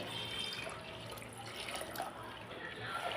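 Cooled milk pours steadily into a large vessel for tender coconut pudding, a soft continuous liquid splash and trickle, fairly faint and close.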